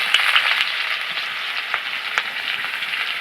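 Chopped onions fry in oil in a wok with a bright, steady sizzle, broken by a few louder crackles and pops.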